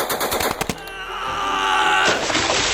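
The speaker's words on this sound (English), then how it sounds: "Howard's men firing their Sten guns and throwing grenades as they charged towards the bridge" Sten gun fire during a battle reenactment of a charge on a bridge, a fast volley of sharp shots at the start, then a sustained loud roar and rumble of combat.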